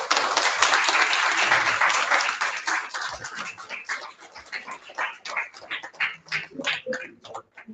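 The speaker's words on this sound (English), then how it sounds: "Please welcome our guests with a round of applause." An audience applauds to welcome guests at a physiotherapy college event, dense clapping at first that thins into scattered individual claps and fades, heard from within the crowd.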